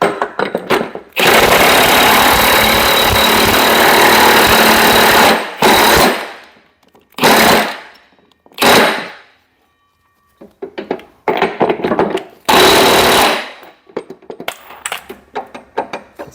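A power tool tightens locking nuts on a John Deere LA175 mower deck, with a long loud buzzing run followed by several shorter rattling bursts separated by pauses.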